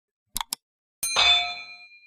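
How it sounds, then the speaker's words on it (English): A bell on a drum kit is struck, sounding a bright, ringing metallic ding that decays over about a second, after two short taps beforehand. "Smack that bell."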